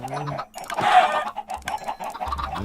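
Minecraft chickens cluck in short, busy bursts close by, the calls overlapping in an uneven rhythm with no talking.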